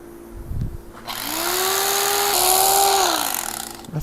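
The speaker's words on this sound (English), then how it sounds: "I think I can grind the rest of that" A grinder works rotten wood on a golf cart seat, its motor spinning up to a loud, close whine that holds steady for a few seconds, wavering in pitch under load, then winds down.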